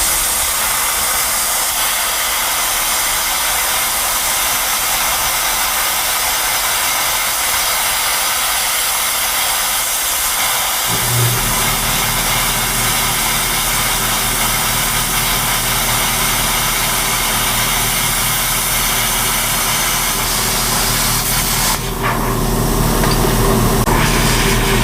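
A 55-amp 120/240V IGBT inverter plasma cutter cuts metal at full power, a loud steady hiss and roar that jumps louder halfway through and holds continuously to the end, with no talking.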